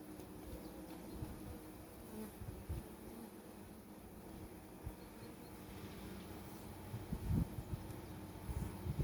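A faint, steady hum of many honeybees fills the background during a hive inspection of a weak colony, with occasional soft knocks and rustles nearby.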